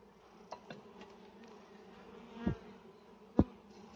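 Bees buzz faintly around a beehive stand on a farm, a low steady drone with a few brief sharp knocks and taps nearby.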